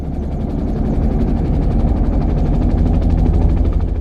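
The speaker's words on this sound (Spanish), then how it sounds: "Porque aquí dice número 3, helicóptero." Helicopter sound effect played on a radio broadcast: a loud, steady rotor chop with throbbing low engine drone, continuous throughout with no talk.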